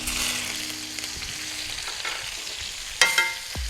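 Butter and rosemary sizzling in a hot pan beside a seared steak, a close, steady frying hiss with a few stirring clinks and a sharper burst of spatter near the end.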